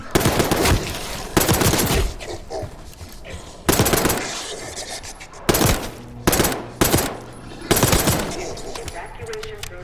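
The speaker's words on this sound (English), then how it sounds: "You hearing gunfire? Yes. Sounds like it's coming from one of the lower floors." Bursts of automatic gunfire in the Call of Duty Black Ops 6 campaign, coming from lower floors of a building: several loud, dense volleys at irregular intervals with echoing tails, and some speech-like sound mixed in.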